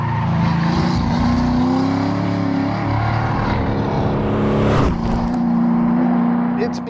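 A Mustang engine with a loud Flowmaster race car exhaust roars steadily with a deep, rumbling exhaust note, rising briefly near the end, with a voice talking over it.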